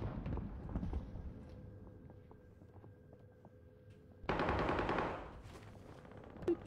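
Bursts of automatic gunfire from the video game Modern Warfare 2, with a loud, dense volley after a stretch of quieter firing in the background.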